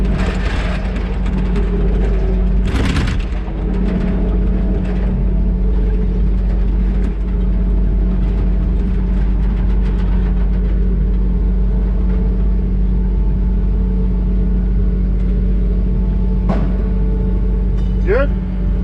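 A skid steer engine drones steadily and loudly on a construction site where an ICF basement wall is being stacked, a constant low rumble throughout with a brief louder clatter early on.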